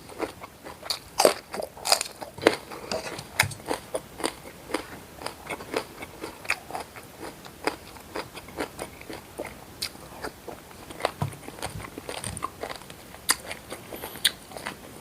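Loud, crisp crunching bites of spicy beef tendon salad repeating steadily, a wet gristly crunch with each chew, close up and without talk.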